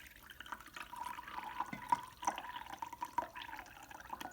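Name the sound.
pouring 4 ounces of liquid into a disposable diaper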